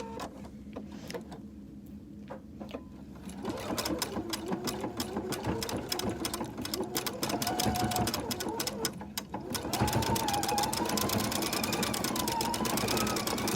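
A Husqvarna Viking sewing machine with a Spanish hem foot stitches steadily nearby, starting with a few slow stitches and then settling into a fast, even mechanical whir with a rapid needle rhythm.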